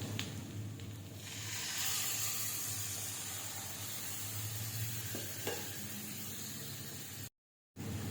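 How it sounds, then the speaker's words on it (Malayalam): Fish pieces sizzle in masala for a Kerala-style fish curry, a soft steady hiss with faint stirring, ending in a brief cut to silence. "അങ്ങനെ നമ്മുടെ മസാലയിലേക്ക് ഫിഷൊക്കെ ഇട്ട് കൊടുത്തിട്ടുണ്ട്"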